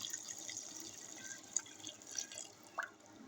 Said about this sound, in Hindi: ये अब पानी डाल लें, बहुत अच्छी तरीके से उबालना है इन्हें।